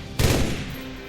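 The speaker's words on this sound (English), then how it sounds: "Prepare to fire." A single rifle shot from a ceremonial volley at a funeral, a sharp close crack followed by a short decaying echo, heard alone.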